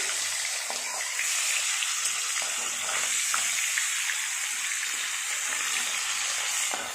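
Fish pieces fry in hot oil, giving a steady, close hiss of sizzling with faint crackles and no talking.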